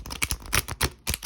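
A tarot card deck being shuffled by hand, giving a quick run of crisp, papery flicks and snaps in uneven bursts, close up and with no voices.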